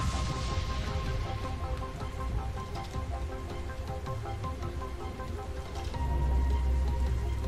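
Rain falls in Dying Light as a steady, dense patter that stays even and continuous throughout, with a low rumble underneath.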